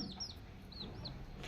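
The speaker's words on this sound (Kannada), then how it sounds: "ನೋಡಿ, ಕೋಳಿ ಪಿಳಿ ಎಷ್ಟು ದೊಡ್ಡದಾಗೈತಿ." A well-grown young chicken kept indoors in a room gives a few short, high chirping clucks, close and fairly soft over a quiet background.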